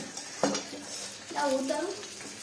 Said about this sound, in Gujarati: ખજૂર એકદમ ઢીલો થઈ જાય ને ત્યાં સુધી આપણે હલાવવાનો હોય છે